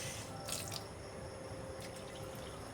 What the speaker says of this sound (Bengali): দিয়ে দিচ্ছি জল।